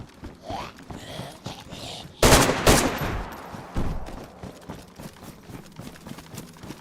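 DayZ gunfire: a sudden loud burst of shots after a stretch of quieter in-game movement sounds, followed by scattered fainter footsteps and rustles.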